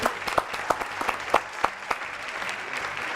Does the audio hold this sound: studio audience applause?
yes